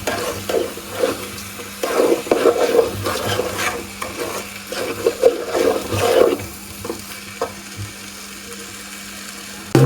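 Rice, a kilo of it, dry-frying in a pot while being stirred, giving close scraping and rustling strokes in irregular bursts over a faint low hum, with no one speaking.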